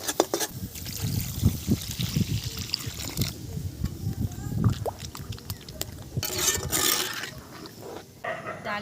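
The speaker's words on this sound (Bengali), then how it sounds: "ধুয়ে নেব এইভাবে। পরিষ্কার পাতা, তবু একটু ধুয়ে নিতে হবে।" Leaves being rinsed with water by hand, with uneven trickling and splashing bursts and soft handling noises, a louder gush of water near the end.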